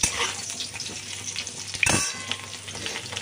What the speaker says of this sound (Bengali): তো এদিকে আলু ভাজা চলছে এখনও।